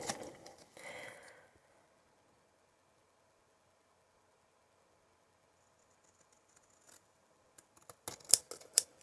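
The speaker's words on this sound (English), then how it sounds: "so you just want to take off the excess cardstock there. Just run along there with some good strong scissors." Strong scissors trimming excess cardstock for a card project: a short burst of snipping near the start, then near silence, and a cluster of sharp close clicks and cuts toward the end.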